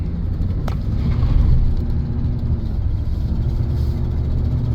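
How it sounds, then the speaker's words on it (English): A 2001 Ford F-150 pickup truck engine rumbles steadily with a deep exhaust drone, near and constant, with a faint higher whine riding above. "You can hear the exhaust. It's a Ford truck"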